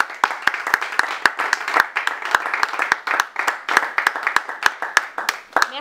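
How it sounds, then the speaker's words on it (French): A room full of people claps steadily, with individual hand claps rising out of a dense, lively wash of applause. "On l'applaudit quand même."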